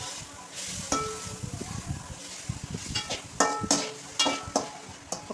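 Cabbage stir-fry with grated coconut gets stirred in a pan, producing a soft sizzle under repeated scraping and clinking of a spoon against the metal, close and irregular in rhythm.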